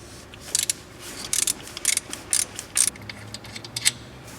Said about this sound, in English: we're going to remove this bolt in the back, and this one is going to require a 6mm Hicks bit socket